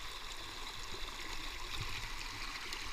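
A small creek flows and trickles steadily over rocks along a canoe route in Killarney, a constant close wash of water with no voices.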